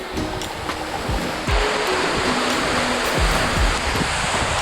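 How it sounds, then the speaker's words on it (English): Dense, continuous roar of rushing water at the tallest waterfall in Java, a 200-metre drop, steady and loud throughout with a few faint tonal sweeps from music above it. "Standing at 200 meters, this is the tallest waterfall in all of Java."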